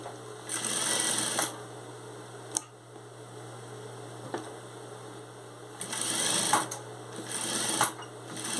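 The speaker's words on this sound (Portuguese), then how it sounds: "Vamos costurar aqui agora, na beirinha. Vamos passar uma costurinha em volta dele todinho." Sewing machine stitching a seam around the edge of a fabric piece, in bursts of fast whirring separated by pauses and small clicks, close and moderately loud over a steady low hum.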